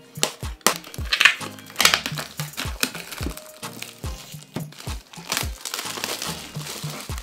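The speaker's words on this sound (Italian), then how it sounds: "Vediamo se uso il cutter, così magari evito di fare danni." A comic box set's packaging being cut open with a cutter, heard as close, irregular crinkling of plastic and cardboard with sharp snaps and clicks throughout.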